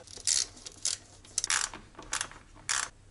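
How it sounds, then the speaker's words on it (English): Socket wrench with a 10mm socket ratcheting on a bolt of a 1990s Mazda MX-5 NA Miata, with several short, bright clicking bursts in an irregular rhythm, close and fairly loud, with no talk. "just use a socket wrench, 10mm socket here"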